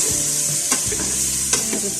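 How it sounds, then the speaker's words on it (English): Tomatoes and onions frying in oil in a pan, a steady broadband sizzle throughout with a couple of brief stirring knocks, close and fairly loud, no talking. "Now I'm just going to put in my tomatoes and onions in the same"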